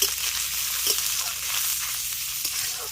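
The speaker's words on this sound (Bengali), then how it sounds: "এখানে আমি নারকেলটাকে কুচি করে নিয়েছি এবার এটাকে ভেজে নিচ্ছি" Chopped coconut frying in a pan for vegetable chops, a continuous close sizzle with a few soft clicks of a spatula now and then, and no speech.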